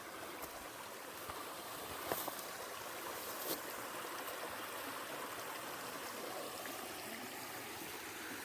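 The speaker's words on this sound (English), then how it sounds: "Oh, I made it to the waterfall at the end." Small waterfall at the end of a rocky desert canyon in the Mojave, a steady faint wash of flowing water throughout, with a couple of brief brighter splashes.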